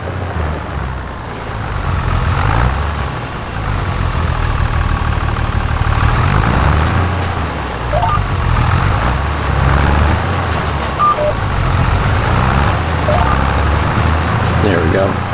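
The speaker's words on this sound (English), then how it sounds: "I can see this tractor struggling a little bit." A farm tractor engine in need of maintenance labors as it loops and turns in a field. It gives a loud, steady, rumbling drone that swells and dips over fifteen seconds, with a voice speaking at times over it.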